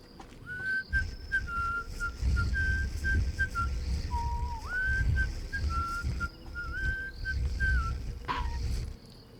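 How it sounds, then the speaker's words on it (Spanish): A cheerful melody whistled at night, a clear single-tone tune of short held notes and small slides, loud and near over a low rumbling background, with a brief sharper whistle near the end. "El silbido tiene la misma melodía todas las noches. Es alegre."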